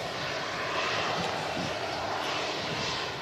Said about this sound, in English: Letting the aircraft roll out. Very minimal braking there, reverse thrust.